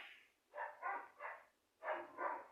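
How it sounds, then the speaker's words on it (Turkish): Neighbour's dogs barking in a burst of about five barks in two groups, moderately near with a brief pause between, no talking. "Bir de komşunun köpeği var. Sürekli havlıyorlar."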